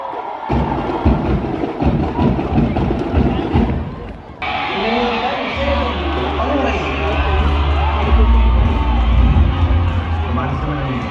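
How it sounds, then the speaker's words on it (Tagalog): A political rally crowd in Cavite roars and cheers loudly for Senator Ping Lacson, whoops and yells swelling over a low rumbling din, with a voice over the noise early on. "Malakas na hiyawan ulit para kay Senador Ping Lacson!"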